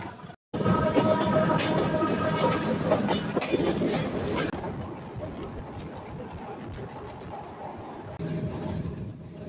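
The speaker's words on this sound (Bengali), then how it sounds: "প্রথমবারের মতো সুন্দরবন এক্সপ্রেসে যাচ্ছে হচ্ছে ঢাকা শহরতলি থেকে রাজবাড়ি রেল স্টেশনে" Sundarban Express passenger train running between Dhaka and Rajbari, a loud rumbling roll with rhythmic wheel clatter after a brief gap at the start, then softening to a quieter steady rattle.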